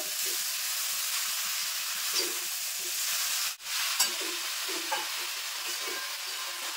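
Boiled chowmein noodles being stir-fried with vegetables in hot oil, a steady hissing sizzle with soft periodic scrapes and tosses, one brief dip and a sharper clink midway; close, no talking.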